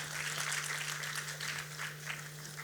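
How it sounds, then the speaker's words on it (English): Audience at a conference session giving a round of applause after a presentation, a soft, even wash of many hands clapping with a steady low electrical hum beneath it. "A good big round of applause for Salman ji."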